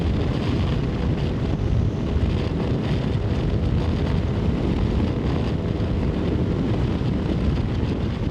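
Strong wind buffeting a car at around 60 to 65 mph on the road near Litchfield, a loud, constant broadband roar and rumble with no pauses, close to the microphone.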